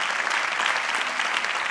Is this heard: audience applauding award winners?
yes